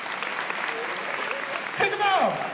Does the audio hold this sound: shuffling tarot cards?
no